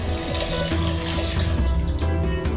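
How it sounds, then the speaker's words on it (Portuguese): Warm water is poured into a bowl for pizza dough, producing a steady splashing hiss that runs throughout under continuous background music. "Despejamos água morna em uma tigela."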